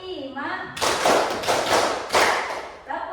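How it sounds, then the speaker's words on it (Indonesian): A ninth-grade class claps on a teacher's counted cues, several distinct bursts of group hand clapping in a rhythmic pattern, with a voice speaking before and after. "Tepuk satu, tepuk dua, tepuk tiga, tepuk empat"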